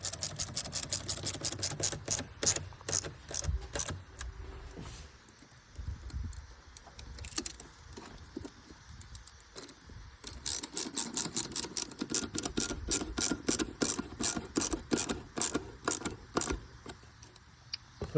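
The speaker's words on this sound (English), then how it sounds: "Tighten down our two clamps." A ratchet clicks rapidly while tightening two hose clamps under the hood of a 1999 Ford Ranger. The close, sharp clicking comes in bursts with a short pause in the middle. No voices are heard.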